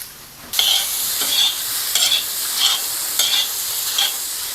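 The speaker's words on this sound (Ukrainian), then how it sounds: "беремо вершкове масло, чесник і йдемо до наших грибів." Fried mushrooms sizzling in butter with garlic in a pan, a bright hiss that starts abruptly and pulses with repeated stirring strokes, close and fairly loud, with no voices.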